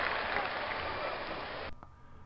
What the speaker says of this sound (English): This crowd is cheering awful hard for the other team making shots.